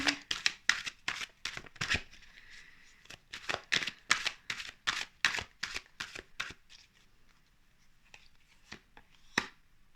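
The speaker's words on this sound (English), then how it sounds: "I was getting that as I was shuffling the cards" Tarot cards being shuffled close up in quick repeated riffling bursts, a rapid crisp flutter that stops briefly midway, then trails off into a few soft taps.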